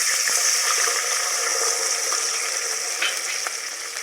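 Homemade amla hair oil heats in a pan until it comes to a gentle boil, giving a soft continuous bubbling sizzle with faint crackles, fairly quiet and without any voices.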